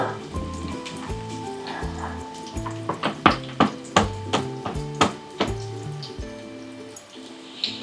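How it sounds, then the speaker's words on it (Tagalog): Onion and garlic sauté in hot oil in a pan, a steady close sizzle with crackling pops, layered under tonal background music. "Medyo lutuin lang natin yung sibuyas at bawang."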